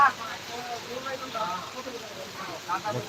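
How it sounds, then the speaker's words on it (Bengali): Rain falls steadily at a market stall of vegetables, a soft continuous patter with faint voices underneath. "প্রচন্ড বৃষ্টি হচ্ছে"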